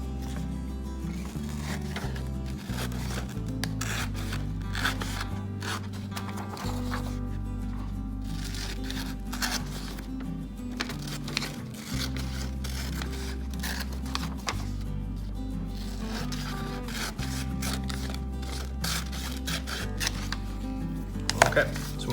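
Paper for a Zentangle sculpture is cut along three lines with scissors, producing a series of crisp, close snips and rustles over a steady musical background.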